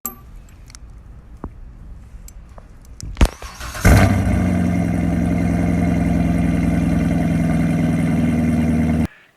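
A Chevrolet Corvette C7 pulls up and its engine bursts in loudly and close after a quiet start, then holds a steady, throaty rumble before cutting off abruptly.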